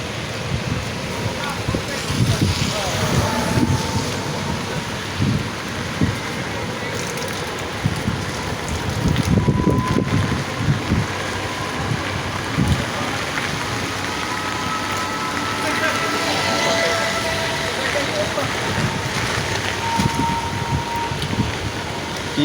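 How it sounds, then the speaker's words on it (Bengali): Steady wind and rain batter an open area through a long stormy spell, a dense continuous hiss with gusty swells and muffled voices underneath. "কি বৃষ্টি হইতেছে এবং বাতাস চারিদিকে সারা রাত"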